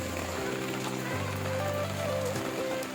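Heavy rain pours steadily onto surfaces as a dense, continuous hiss, with a low engine-like hum mixed underneath.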